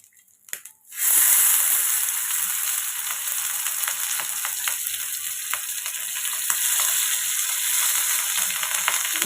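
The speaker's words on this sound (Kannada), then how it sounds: "ಇದು ಫಿಶ್ ಫ್ರೈ ಮಾಡ್ಕೊಳ್ಳೋಣ. ಹೆಂಚು ಇಟ್ಕೊಂಡು ಎಣ್ಣೆ ಹಾಕ್ಕೊಂಡಿದ್ದೀನಿ." Masala-marinated fish drops into hot oil on a flat pan and sizzles loudly and steadily, a close, continuous frying hiss after a brief clatter at the start.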